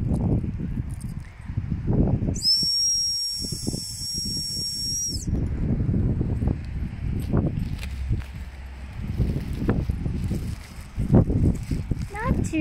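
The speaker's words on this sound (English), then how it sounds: "Let's see how well my whistle works." A single shrill, steady dog whistle blast lasting about a second rings out over outdoor rustling, footsteps and a voice.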